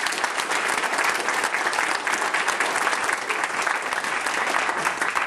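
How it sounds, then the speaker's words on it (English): Dense, steady audience clapping fills a room at a residents' meeting about an incinerator campaign, loud and continuous throughout with no pauses. "they deserve a massive round of applause for their work."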